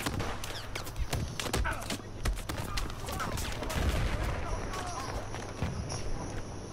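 RPK-12 machine gun fire in Battlefield 4: rapid bursts of sharp, loud shots in quick succession, with a few sustained stretches and footsteps mixed in, under a steady game ambience.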